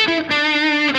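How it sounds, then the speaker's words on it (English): A Glarry thinline Telecaster-style electric guitar played through distortion: one sustained, buzzing, harmonically rich chord rings loud and close for about a second, with no voices. "Here's some distortion on the glary."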